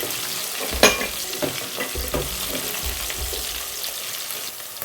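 Green chilies and curry leaves fry in oil while a spoon stirs them around a pan, with a steady sizzle broken by scraping knocks and one sharp clatter near the start, close and without talk.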